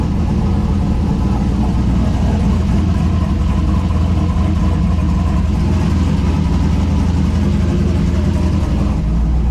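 A turbocharged LS engine in a four-wheel-drive Ford Mustang Foxbody runs steadily, a loud, close, deep rumble with low throbbing pulses and constant mechanical noise throughout.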